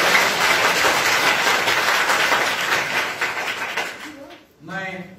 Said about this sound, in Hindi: अरे सबको ताली बजा के एक बार।